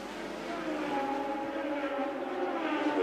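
1988 Formula 1 turbo race cars at Monaco produce a continuous, steady engine roar that builds slightly over the few seconds, with a commentator talking over it.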